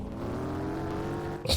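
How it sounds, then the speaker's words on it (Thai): Semi-trailer truck engine in the Roblox video game, a loud steady revving drone as it accelerates, ending in a sudden burst of noise, with no talk. "อุ้ยเสียงรถเหมือนกันเลยโอ้โหแรงเหมือนกันด้วย"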